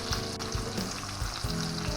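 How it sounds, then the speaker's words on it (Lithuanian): Breaded pork steaks frying in a pan of hot oil, giving a close, continuous sizzle with bursts of crackle and no talking. "Kepam."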